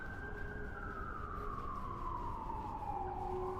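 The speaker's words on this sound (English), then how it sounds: "That's just an ambulance." A city ambulance siren wails steadily in a falling, drawn-out tone as it passes along a Washington, D.C. street, loud and continuous over constant traffic rumble with no talking.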